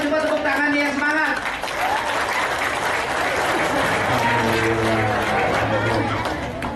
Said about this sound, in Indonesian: coba tepuk tangan yang semangat